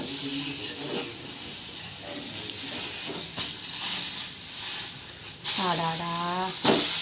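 A millet dosa sizzles and fries on a hot pan, giving a continuous loud crackle. Stirring and scraping noises occur along with it, and a voice speaks briefly near the end.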